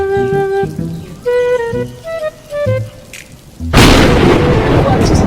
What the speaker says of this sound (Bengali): আসলো বৃষ্টি